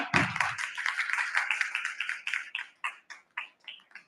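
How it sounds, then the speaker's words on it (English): A small audience claps together for the launch of an entrepreneurship event website, a short burst of applause that thins to a few scattered, separate claps as it dies away. "Big round of applause, everyone."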